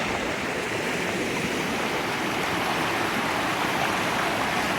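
A river rushes steadily with a loud, broad roar of flowing water, constant and unbroken, with no voices.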